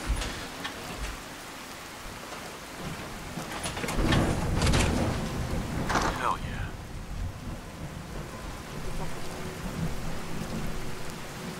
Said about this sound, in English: Oh, this isn't regular. This is a storm.